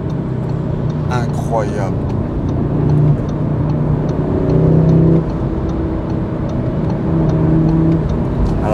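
Car engine revving up under acceleration, a steady loud motor drone that rises in bursts, heard from inside with someone talking over it.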